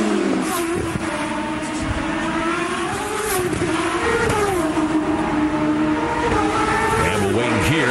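IndyCar race cars scream past on track, their high-revving engines rising and falling in pitch as they approach and pass, loud and continuous with overlapping engine notes.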